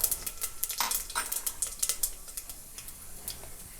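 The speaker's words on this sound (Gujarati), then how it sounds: "તેલ ગરમ થાય એટલે અડધી ચમચી આખું જીરું એડ કરીશું" Whole cumin seeds spit and crackle in hot oil inside a pressure cooker, a quick scatter of sharp pops and light sizzling ticks that thin out toward the end, with no talking.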